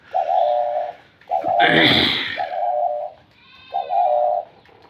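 Pet pigeons, a double-crested breed, coo in repeated low rounded phrases close by, with a louder burst of birdy chatter and rustle in the middle and faint higher calls in the background.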